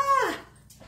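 A single short yip-like bark from an indoor dog, loud and close, with a falling whine-like tone, then quiet.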